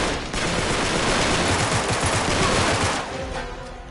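AK rifles in Uncharted fire several overlapping sustained bursts for about three seconds, a dense loud rattle of gunfire that then drops off abruptly into quieter echo.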